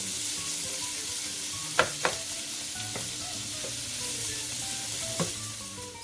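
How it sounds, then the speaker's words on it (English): Pancetta frying in a pan over high heat, a constant close sizzle with a few sharp spits and utensil taps on the pan. "We're just adding the pancetta to the pan. Get those nice and cooked."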